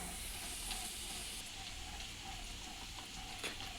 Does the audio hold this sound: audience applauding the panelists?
no